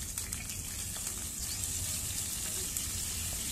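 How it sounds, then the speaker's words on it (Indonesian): Yellow spice paste fries with lemongrass, lime leaves and bay leaves, giving a continuous dense sizzle and crackle close up, steady throughout with faint stirring scrapes. "Kita tumis hingga harum dan matang,"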